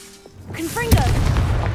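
A Confringo fire-blast spell bursts in Hogwarts Legacy on hard mode, a sharp whooshing crack at the middle followed by a rumbling, sustained boom, with game sound effects before it.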